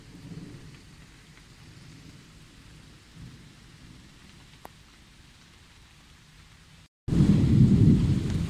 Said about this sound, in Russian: Дождик так и не заканчивается